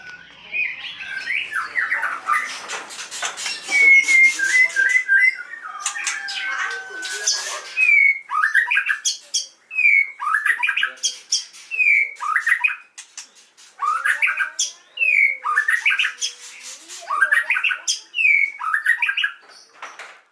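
White-rumped shamas (murai batu) in a breeding aviary sing in repeated bright whistled phrases and chattering squawks, loud and close, with short pauses between bursts.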